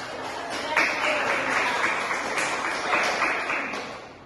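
Applause from a classroom of students after a rhythmic clapping game, a dense steady patter of many hands filling the room at moderate level, with no voices over it.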